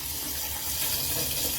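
Hot water running steadily from a tap in a self-built campervan, a continuous close hiss and splash with no voices.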